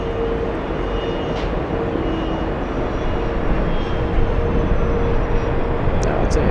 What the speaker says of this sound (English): this is a 737 flying in from